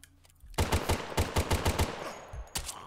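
Pistol gunfire in a CoD Zombies-style video game, a rapid string of about nine sharp punchy shots after a quiet start, then a short gap and one more shot, loud and close with no talk.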